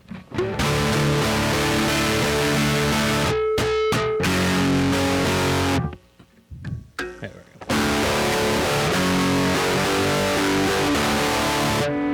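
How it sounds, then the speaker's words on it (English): A heavily distorted electric guitar plays loud, sustained chords with a thick, gritty tone, briefly dropping to near silence before crashing back in. "let me turn on some distortion"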